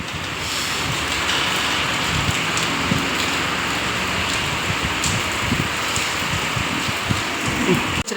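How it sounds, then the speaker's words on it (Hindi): Heavy, steady rain hiss close by, a dense wash of drops pattering on surfaces throughout, with no voices. "ये देखो अच्छी खासी बारिश हो रही है, मतलब तेज़ हो रही है"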